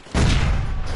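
Barrels explode in a video game: one sudden heavy boom that swells fast and then rumbles on with a deep, dense roar to the end.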